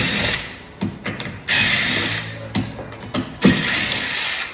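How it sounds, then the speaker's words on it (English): Small cordless Makita drill backing screws out of a front door, sounding as repeated whirring bursts with short pauses and ratcheting clicks, close and fairly loud with no talk. "I am gonna go ahead and just use one of my Makita drills"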